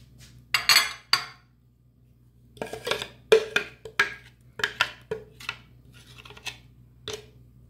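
Liquids pour into a mixing bowl of dough ingredients with baking powder already added, while utensils and dishes clink in short, sharp bursts, some close and bright, spaced irregularly over steady quiet background hum.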